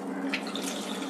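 Two tumblers of water are poured into a pot while cooking a mint-flavoured dish, making a brief, steady splashing stream at close range with no talking.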